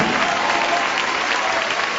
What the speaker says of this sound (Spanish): Ese aplauso sea para el Señor Jesús.